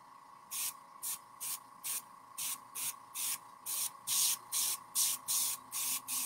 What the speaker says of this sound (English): I can move my hand with the airbrush.